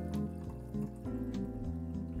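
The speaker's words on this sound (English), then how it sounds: "So let's pour some tea. About 3 ounces." Tea poured into a blueberry tea cocktail already holding Grand Marnier and Amaretto, a steady liquid stream lasting about two seconds, close and fairly quiet, with no talk over it.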